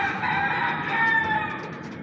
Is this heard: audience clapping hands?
no